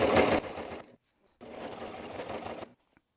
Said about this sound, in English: I'm going to do a back stitch again